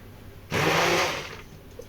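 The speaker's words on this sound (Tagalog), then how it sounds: "Gumamit kayo ng stick blender" A stick blender whirs in a short, loud burst for about a second while blending fresh aloe vera with fresh milk, then fades and stops, quiet before and after.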